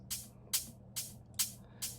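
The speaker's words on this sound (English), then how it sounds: "kind of like a white noise ride, and then just offbeat hats." Five evenly spaced bursts of bright white-noise hat hits land on the offbeats of a dubstep riddim drum loop, each sharp hiss decaying quickly over a low steady hum, with no voices.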